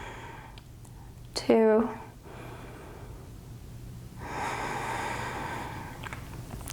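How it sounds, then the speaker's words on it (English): Slow deep breaths during a guided yoga session: a sharp audible inhale followed later by a long breathy exhale, quiet and close, with a brief voice at the start. "Take a deep inhale and a deeper exhale."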